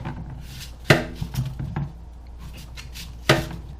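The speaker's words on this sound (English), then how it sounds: "once I got my slices, then I just cut them into strips" A knife cuts watermelon slices into strips on a board, giving a few sharp, close chopping knocks spaced out between quieter handling sounds.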